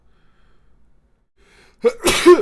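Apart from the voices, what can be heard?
sneeze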